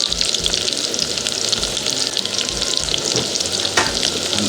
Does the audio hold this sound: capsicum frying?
yes